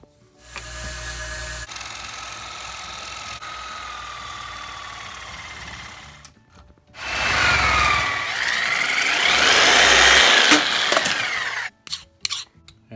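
An aluminum block held in a 4-jaw chuck is squared off on a metal lathe. The motor hums steadily, then stops briefly and restarts, and a louder stretch of cutting noise follows. Everything sounds close and no one talks.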